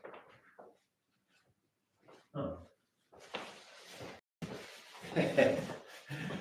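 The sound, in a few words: dogs barking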